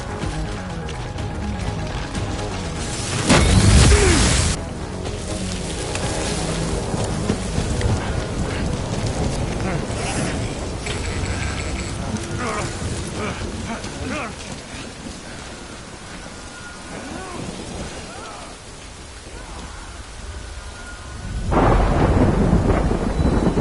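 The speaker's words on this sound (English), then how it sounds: "Good thing it was raining." Heavy rain and rolling thunder in the video game Death Stranding, with loud thunder cracks near the start and end over a steady downpour.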